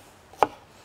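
A knife chops the end off a spring onion on a cutting board in a home kitchen, a single crisp cut that sounds close and clear against a quiet room.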